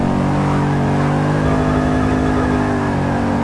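A VL Commodore race car on drag tires in the video game Forza 6, its engine droning loud and steady at high revs with a strong harmonic hum throughout, no voices.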